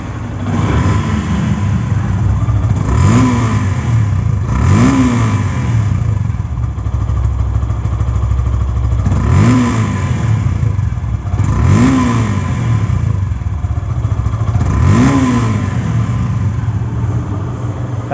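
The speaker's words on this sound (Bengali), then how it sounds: "এখন সাউন্ড কোয়ালিটি শোনাবো বাইকটির।" A used Yamaha FZ motorcycle in showroom condition, with only about 204 km on it, revs loudly and close up in repeated surges, rising and falling about six times over a rough idle.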